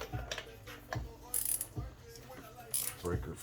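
A wrench works a spark plug loose on a Kia Sorento four-cylinder GDI engine, producing a few quiet ratcheting clicks and metallic creaks spaced out over a few seconds, close and faint.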